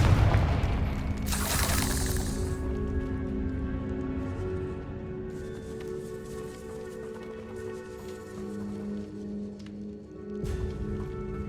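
A Confringo spell explosion in the Hogwarts Legacy video game, with a loud burst and deep boom early on that settles into a rumbling, droning tail.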